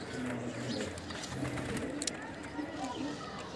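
A pigeon coos softly in low, repeated phrases against a noisy, rustling background.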